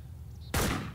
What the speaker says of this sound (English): Shooting zombies.